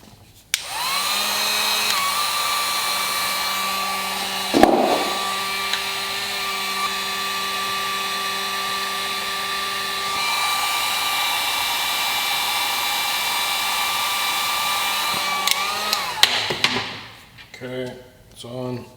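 Heat gun heating a PCV valve fitting, a steady loud whirring blower hiss running for about sixteen seconds with a brief clunk midway, then winding down as a person speaks at the end.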